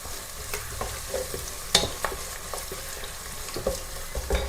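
Garlic, ginger and curry leaves fry in a pan for a pickle, giving a steady crackling sizzle with scattered pops and stirring scrapes, close and fairly quiet, with no talking.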